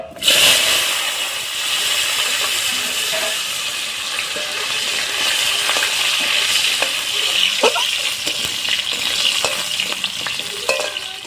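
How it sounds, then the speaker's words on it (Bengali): Potatoes fry in hot oil with cumin seeds and dried red chilies, a loud continuous close-up hiss and sizzle broken by occasional stirring scrapes and knocks against the pan. "ভালো করে ভেজে নিচ্ছি"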